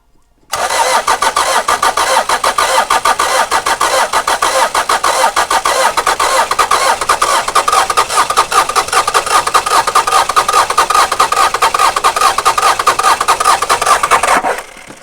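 A pickup truck engine, after its heaters have warmed it, cranks in a loud, close, rapid and even chugging rhythm for about fourteen seconds without clearly catching, then cuts off abruptly.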